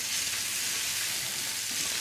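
Italian sausage fries in a hot non-stick skillet, a steady, loud, broad sizzle that holds without a break and has no talking over it.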